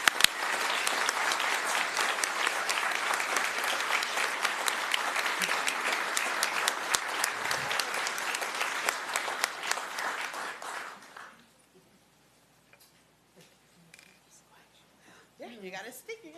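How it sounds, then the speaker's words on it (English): A county commission meeting audience gives a full round of applause: dense, loud clapping for about eleven seconds that fades out abruptly, followed by near-silence and then a voice beginning to speak. "Let's give her a big round of applause."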